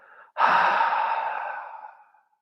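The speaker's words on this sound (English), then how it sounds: "Open your mouth and exhale." A single long breath pushed out through an open mouth during a beginners' yoga breathing exercise, close and clear, fading gradually over about two seconds after a brief quieter lead-in.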